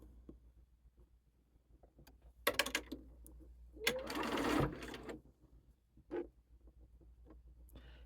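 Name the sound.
sewing machine stitching quilt block rows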